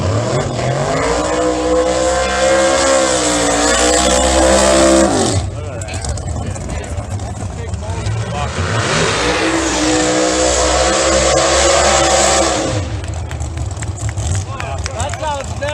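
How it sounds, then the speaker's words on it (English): A drag racing car roars hard as it accelerates down the strip, with a sweeping rise in pitch. Then comes a rougher stretch, and a second loud acceleration run follows, all very loud and sustained. "I was also able to record some video of the actual drag racing"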